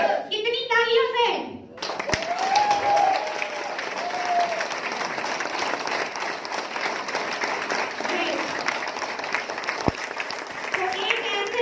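A room full of people at a network marketing training session in Panipat breaks into sustained applause. Brief speech comes first, then a long, even stretch of dense clapping.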